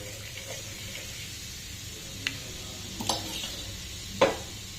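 Mustard seeds tempering in hot oil for a meal maker gravy curry give a faint, steady sizzle, with a few sharp pops and crackles standing out near the end. No one speaks.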